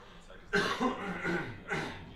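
A few harsh coughs close to the mic from a lingering two-week cough, a burst near the start followed by two more spaced coughs.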